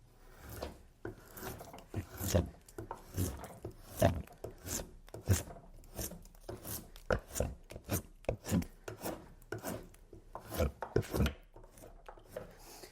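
A Windsor chair seat being hand carved from wood, with rhythmic rasping scrapes and cutting strokes close by, irregular bursts separated by short pauses.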